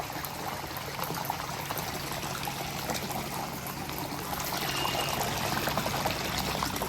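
Water pours from a pipe onto the ground on a farm, a steady broadband splashing and gushing that holds at an even level throughout, close by, with no talk.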